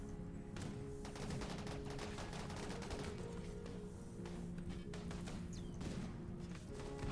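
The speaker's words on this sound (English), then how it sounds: "they're just shooting a shield that will not come down" Rapid continuous gunfire from RimWorld colonists hitting an energy shield that holds, dense overlapping shots crackling steadily throughout at moderate level with no talk.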